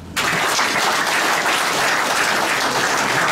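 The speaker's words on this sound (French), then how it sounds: "Je voudrais que vous vous applaudissiez" Audience applause at a conference in support of the AES Confederation, dense and sustained clapping from a large crowd, steady and loud throughout after a brief quiet start.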